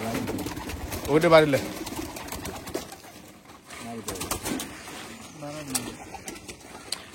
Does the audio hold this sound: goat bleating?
no